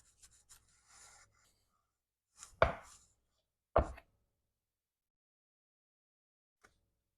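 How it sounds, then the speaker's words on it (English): A knife slices and trims fat from smoked beef ribs (dino ribs), giving a few soft scraping rubs followed by two sharp, close cutting strokes and a faint final tick, with quiet pauses between and no talk. "make a cut and lift it up. Make sure you're not taking too much meat off."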